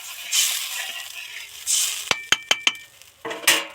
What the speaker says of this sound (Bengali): আর একটু বেশি পরিমাণে জল দিলাম দিয়ে নেড়ে ছেড়ে